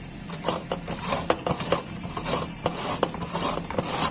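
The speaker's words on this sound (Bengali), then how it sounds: "গ্যাটার দিয়ে এগুলা কুচি করে নিচ্ছি" Carrots are grated by hand on a metal grater, producing repeated raspy scraping strokes in a steady back-and-forth rhythm, close and fairly loud, with no talking.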